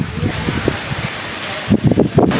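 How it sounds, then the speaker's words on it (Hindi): Rain falls outdoors as a steady broadband hiss lasting throughout, with voices breaking in over it partway. "ओ माय गॉड, बारिश आ गई।"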